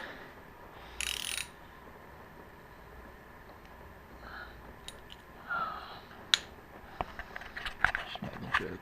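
A 1/2 inch drive ratchet fitted with a 12 mm socket is used while removing the wheel of a Yamaha R6 motorcycle. Short bursts of ratcheting come at intervals, followed by a flurry of sharp clicks and taps toward the end.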